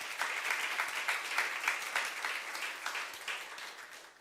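A church congregation at a youth service claps together in praise, a dense, even wash of many hands rising and falling slightly but continuing steadily from start to finish.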